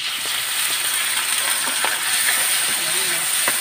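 Sardines sauté in a pan over a cooking fire, a steady loud sizzle and hiss running throughout with faint scattered clicks and no talk.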